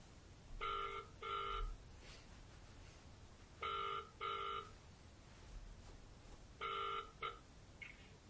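A telephone rings in short double bursts, three rings in all with pauses between, fairly quiet in a still room.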